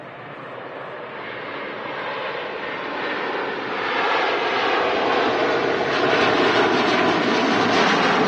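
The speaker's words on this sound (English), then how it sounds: "Hainan A330 now on the departure" Hainan Airlines Airbus A330 departing Manchester, a deep jet engine roar swelling steadily louder over several seconds with a faint whine running through it, heard alone.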